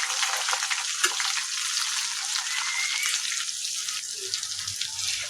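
Chopped onion and chili sizzle in hot mustard oil with a loud, dense, continuous hiss and crackle, heard up close throughout with no talking.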